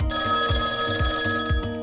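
A telephone bell rings loudly and up close in quick repeated bursts, about two rings per second, with no voices over it.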